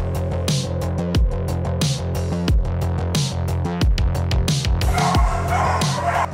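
Police K9 unit dogs of the Sindh Police bark repeatedly in a rhythmic run of sharp, loud, close barks with short yips between, one after another for several seconds.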